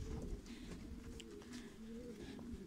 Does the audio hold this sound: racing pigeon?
yes